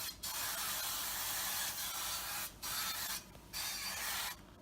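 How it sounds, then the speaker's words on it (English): Cooking spray from an aerosol can hisses onto a bread pan in three close, steady bursts separated by short pauses, with no talking. "you're going to spray some cooking spray on your bread pan"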